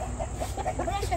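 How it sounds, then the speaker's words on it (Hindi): A Kandahari Aseel rooster gives short, low clucks over steady background noise, with faint talking nearby. "बाकी ये मुर्गा देख ले आप भी"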